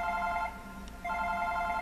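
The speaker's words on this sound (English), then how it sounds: "Oh wait, that's just my phone." An in-game telephone rings in Super Paper Mario, a repeated electronic ringtone with a short gap in the middle, steady and fairly loud over a low background hum.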